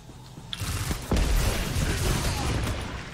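Grenade explosions and gunfire in a Destiny 2 Crucible match: a sharp blast lands early, a heavier boom follows, and then a dense, loud roar of shots and detonations rolls on steadily without a break.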